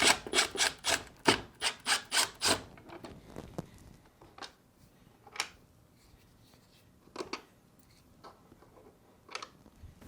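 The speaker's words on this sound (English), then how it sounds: "Using a Phillips screwdriver, remove these 4 screws holding the ice chute plate in place." A Phillips screwdriver backs out screws from a Whirlpool refrigerator's ice chute plate, starting with a quick run of rhythmic ratcheting clicks and then a few scattered separate clicks close by.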